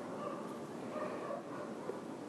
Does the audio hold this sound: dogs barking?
yes